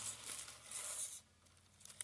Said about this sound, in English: Excuse that plasticky sound in the background. I've got my transmitters and whatnot sitting on a plastic bag.